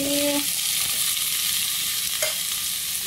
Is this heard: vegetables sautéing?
yes